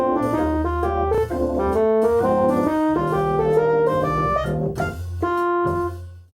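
Jazz play-along backing track with full band accompaniment: walking bass, piano comping chords and steady swing, played alone at an even, moderate level and fading out at the end.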